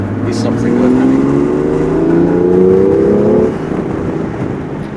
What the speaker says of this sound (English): having a 6-cylinder large capacity engine, in that they sound mega